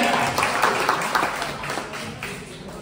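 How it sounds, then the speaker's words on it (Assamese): Audience applause at a village youth-organised annual artists' day celebration, steady broadband clapping from a crowd sustained through the whole stretch at moderate level, with no clear voices over it. "এটা হাত চাপৰি তেওঁৰ কাৰণে।"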